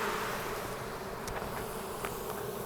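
Honeybees hum steadily around an open beehive during a fall inspection, a constant low drone with a few brief higher buzzes as individual bees fly close by.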